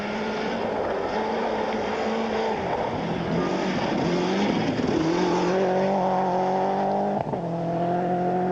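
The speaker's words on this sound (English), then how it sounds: "Another very high-spec Subaru Impreza 555." A high-spec Subaru Impreza 555 rally car at the 2000 Pirelli Carlisle City Challenge Rally, its engine note climbing through gear changes as it approaches and passes loudly, with a sharp pop near the end.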